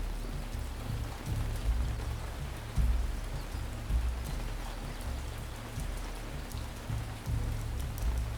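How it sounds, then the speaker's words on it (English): Steady rainfall in the city-building game Ancient Cities, a dense continuous patter of drops with a low rumbling undertone, even and unbroken throughout, heard alone without speech. "Rain again."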